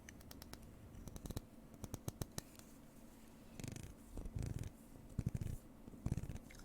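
A small serrated carving tool saws into a pumpkin for Halloween. A few sharp ticks come first, then bursts of rapid rasping that sound close and purr-like, each lasting about half a second, against quiet room noise.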